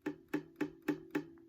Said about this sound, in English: What you want to do is sort of lightly touch the bottom string so it makes this noise.